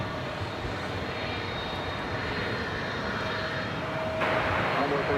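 An airliner at DFW Airport powers up for takeoff, its broad engine roar steady and fairly close with a whining tone, swelling louder near the end as a voice talks faintly beneath.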